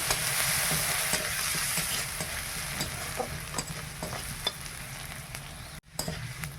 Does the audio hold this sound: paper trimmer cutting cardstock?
no